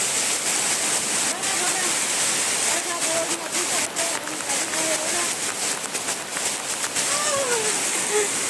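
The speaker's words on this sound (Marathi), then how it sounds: "रस्त्याने पण पाणी खूप असं वाहत आहे वाहत आहे" Floodwater rushes along a road outside a front door during a long downpour of heavy rain, a steady loud roaring flow with splashes, while a person talks over it.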